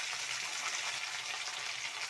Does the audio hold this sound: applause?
no